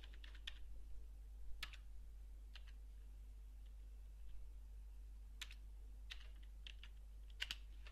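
Someone types a part name on a computer keyboard at a CNC controller, sparse quiet key clicks in short irregular bursts over a steady low electrical hum.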